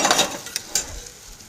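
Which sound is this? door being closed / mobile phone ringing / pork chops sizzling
pork chops sizzling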